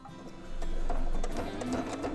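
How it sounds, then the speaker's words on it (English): A domestic sewing machine stitches a Dresden plate wall hanging, its motor humming steadily with a rapid mechanical chatter that swells louder midway, close and alone without talk. "As you're sewing, right now, watch, it's going to go forward a couple times and then it's going to swing over."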